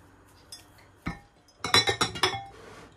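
A glass lid knocks and clinks against a glass bowl holding glutinous rice flour dough, a single sharp contact followed by a quick cluster of close, bright rattling clinks as it settles.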